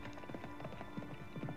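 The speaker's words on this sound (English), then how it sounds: "they abruptly mounted their horses, heading out the west gate ahead of me and galloping out of sight" Horses gallop away, their hooves clip-clopping in a quick, uneven rhythm of overlapping beats, faint and at a steady distance.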